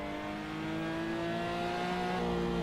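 A Porsche race car in Assetto Corsa at Virginia International Raceway gives a steady, loud engine drone, revving and rising gradually in pitch for a few seconds, heard alone and close.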